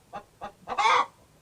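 A hen clucks in a short run of three quick clucks, the last one drawn out and loudest, heard close and alone with no voices over it.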